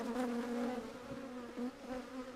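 Live honey bees drone steadily from inside a chimney during a removal, a dense close buzz with shifting pitch bands holding constant throughout.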